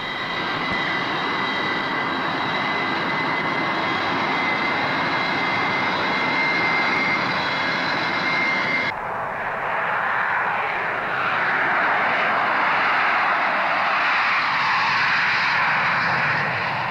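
A fixed-wing airplane's jet engines roar steadily in flight, loud and continuous, with the tone shifting partway through as the engine noise changes, and no voices.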